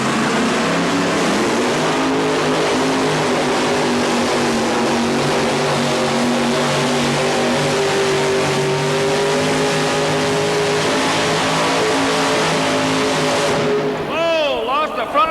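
Loud, sustained engine roar with a steady rising drone from tractors and trucks straining at full throttle at a 1987 pulling event in Louisville, Kentucky, cutting off abruptly near the end.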